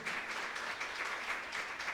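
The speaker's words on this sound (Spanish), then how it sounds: "Dele ese aplauso fuerte." A church congregation claps during a Spanish-language sermon, a steady, moderately faint patter of many hands with a soft rhythmic pulse throughout.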